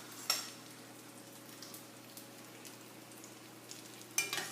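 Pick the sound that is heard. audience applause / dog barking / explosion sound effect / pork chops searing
pork chops searing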